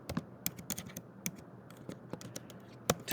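Keys clack on a computer keyboard in quick, irregular bursts of typing, close and crisp against a quiet background.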